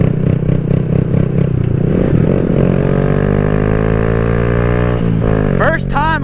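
A Honda Grom motorcycle engine revs loud and close, its pitch climbing steadily through the gears over a continuous drone, with a brief drop near the end as a rider whoops.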